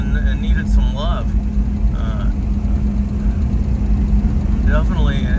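A 1963 Fury Sport Wagon cruising on a road, its engine giving a steady low drone heard from inside the car, with people talking over it.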